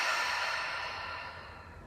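A slow, deep exhalation through the mouth during a guided relaxation, a soft breathy rush that starts full and gradually tapers off, close to the microphone with no talking.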